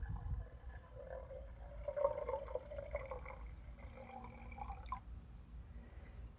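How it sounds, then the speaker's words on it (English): Filtered distilled water poured into a glass container: a faint, quiet trickling and splashing with a low rumble behind it, running steadily for about five seconds before trailing off. "We're going to pour our purified, filtered, distilled water in there"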